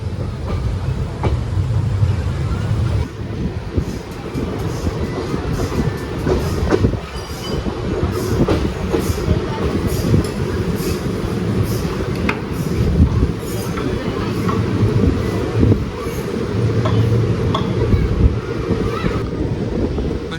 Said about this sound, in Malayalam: P7 ആയിട്ടൊരു വണ്ടി വരുന്നുണ്ടല്ലോ. ഏത് വണ്ടിയാ നോക്കട്ടെ.